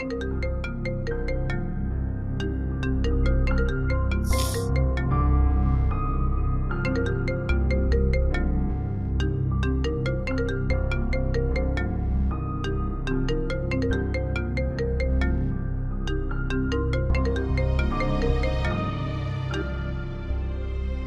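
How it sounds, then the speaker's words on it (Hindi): A phone rings with a melodic tune for an incoming video call in a home setting, sustained and fairly loud for about twenty seconds over background music, with no talk. "भैया की वीडियो कॉल।"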